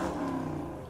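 Car engine revving, a short mid-pitched engine roar that holds briefly and fades slightly, with no talk over it.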